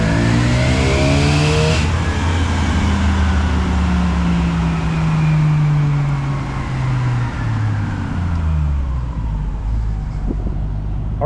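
A Jeep Wrangler 4.0-litre engine is revved hard in first gear to about 4,000 rpm, a loud, close rising engine roar that climbs steadily, then falls away as the throttle comes off.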